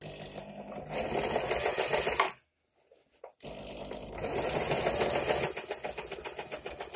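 Sewing machine stitching a padded blouse, a fast, steady mechanical whirr with rapid needle clatter, close and loud, stopping briefly for about a second before running again.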